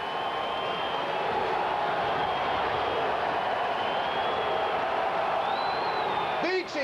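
Stadium crowd at a 1992 NDSU Bison versus Pittsburg State football game, a broad, sustained roar of voices swelling steadily, with a whistle-like tone rising near the end.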